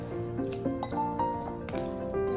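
Water is added a little at a time to pua batter in a bowl, giving soft wet squishes and drips, close up, over a faint steady tonal background.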